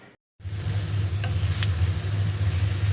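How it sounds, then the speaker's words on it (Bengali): Okra frying in a pan with green chilies and onion, a steady, close crackling sizzle that starts after a brief silent gap and continues evenly throughout. "এখানে হচ্ছে আমি ভেন্ডিকে ভাজি করে নিচ্ছি"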